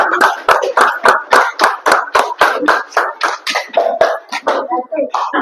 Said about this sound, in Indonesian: Tepuk tangan buat kelompok terakhir.